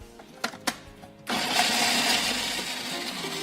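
A kitchen blender starts up and runs steadily, loud and continuous, grinding onion and garlic into a paste, preceded by a couple of short clicks as the lid is handled.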